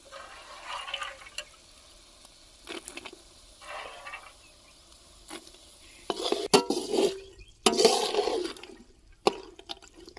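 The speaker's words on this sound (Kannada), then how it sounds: "ನೆನೆ ಹಾಕಿರುವಂಥ ಕಡಲೆಕಾಳು ಹಾಕ್ತಾ ಇದ್ದೀನಿ." Soaked chickpeas are tipped into a cooking pot for a gojju curry, making a few wet, splashy pours and clatters that come in short bursts near the end, with quiet pauses between them and no talking.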